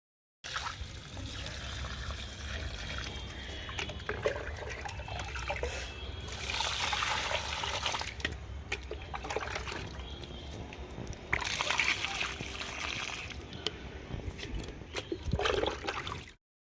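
Water trickles and splashes steadily from a small toy watering can onto potted plants, a continuous close pouring sound with brief louder gushes.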